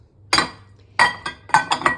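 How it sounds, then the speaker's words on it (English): Two green glass dishes clink together in a series of sharp, bright knocks: one, a pause, then a quick cluster of four, close and alone with no talk. "And then we found these 2 green glass dishes, which we thought would be good for ice cream."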